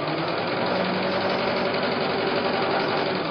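Sewing machine stitching a quilt seam for a nine patch block, fabric feeding under the presser foot, a steady close whirring hum running continuously without pause and with no talk.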